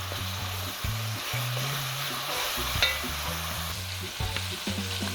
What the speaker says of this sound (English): All the scallion, the thyme, everything will be cut up, we're gonna put them in.